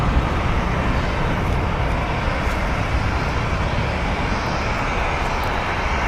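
A Sun Country Airlines Boeing 737-700 landing at LAX on the north side, a steady broad roar of jet engines and rushing air holding at constant loudness throughout, with no voices.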